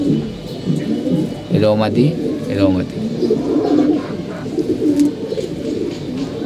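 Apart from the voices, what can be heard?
pigeons cooing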